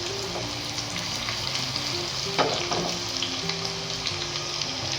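Masoor lentils and chilli sautéing in a pan for dhaba-style akha masur, a steady close sizzle with faint stirring scrapes running throughout, no voices.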